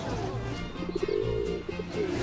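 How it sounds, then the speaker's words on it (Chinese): Soft, repeated coos of plump pigeons sounding close by in a crowded square in Nanjing, with a crowd murmuring and bustling in the background. "哇，你看那个鸽子肥的"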